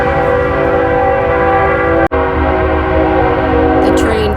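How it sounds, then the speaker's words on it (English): A train passes close by and sounds its horn in a loud, sustained chord. The blast holds steady with a brief cut, over rumbling wheels. "The train just came through."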